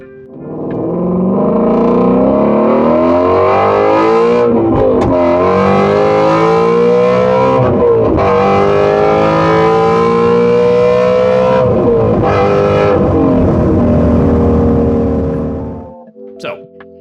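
A Ford Mustang Shelby GT350 engine revs hard and close for about fifteen seconds, its loud wailing pitch climbing and dropping through several pulls before it cuts off abruptly.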